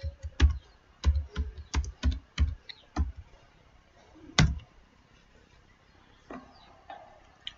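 Fingers type on a computer keyboard in quick irregular bursts of close, crisp key clicks, followed by a few scattered taps.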